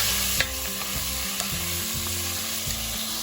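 Italian-style lentil soup ingredients sizzle in a pot, a dense, steady frying hiss with a low rumbling bubble beneath and a few faint stirring ticks, close by and uninterrupted by talk.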